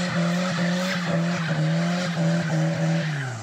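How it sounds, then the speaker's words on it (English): Loud, continuous tire squeal from a Volvo doing a one-wheel peg-leg burnout with an open differential, steady skidding screech over engine drone for several seconds, close up. "I did a sick peg leg burnout for them"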